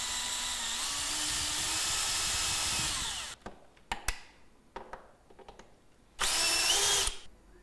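Close, loud power drill whirring steadily as it drives self-tapping screws into a roof window bracket on a plain tile roof, then stops for a few knocks and clicks before a short final burst.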